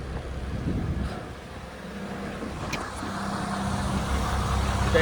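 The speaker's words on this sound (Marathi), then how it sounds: "ट्रॅफिक जाम आहे मेन रोडपर्यंत ट्रॅफिक आहे" Steady low rumble of cars and trucks idling and creeping in a traffic jam on a main road, a continuous moderately loud drone with no voices.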